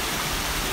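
A waterfall on the Rio Mau in the Douro region roars up close as a loud, continuous broadband rush of falling water. No voices are heard.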